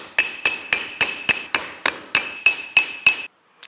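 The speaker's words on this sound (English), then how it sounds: "Cut those off, we just need to peen them down." A hammer peens leather rivets down during a leather movie prop repair, with about eleven sharp, evenly spaced metallic taps that each ring briefly, close and clear, then stop.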